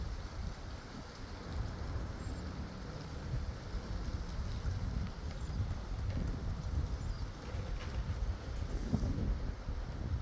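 Strong gusting wind during a windstorm roars steadily and close, buffeting the microphone with dense low rumble for the whole stretch, with no voices.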